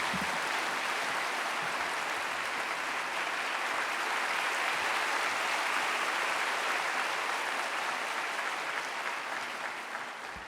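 A large Sunday-worship congregation at Gyeongsan Jungang Church claps to welcome a guest pastor to the pulpit, a thick, sustained roar of applause that holds steady throughout and eases off slightly at the very end.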